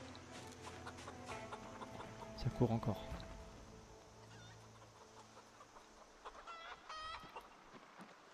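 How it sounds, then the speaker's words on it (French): A rooster in the survival video game Project Zomboid crows and clucks in a loud burst over a hum of game ambience, while someone talks in French over it. "Le coq."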